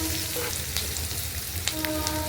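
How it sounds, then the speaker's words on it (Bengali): Potatoes and chopped onions fry in oil for a Bengali prawn curry, giving a steady, close sizzle with a few light scraping clicks from stirring; no one speaks. "তারপর ভালো করে উল্টে পাল্টে নেড়ে চেড়ে ভেজে নিতে হবে।"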